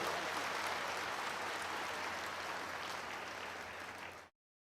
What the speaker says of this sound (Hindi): ताली बजाओ परमेश्वर के लिए जोर से